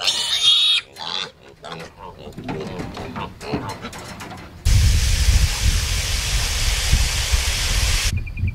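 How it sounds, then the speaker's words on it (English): Pigs grunt and squeal in an outdoor pen fenced with electric netting, with a person talking nearby; midway a loud steady hiss and low rumble take over for several seconds before cutting off. "All right, the pigs are out here."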